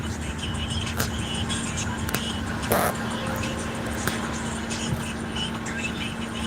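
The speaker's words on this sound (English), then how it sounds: "Traffic." Steady road traffic rumbles from inside a moving car, with a constant engine hum and a few soft clicks and bumps; a voice talks faintly underneath.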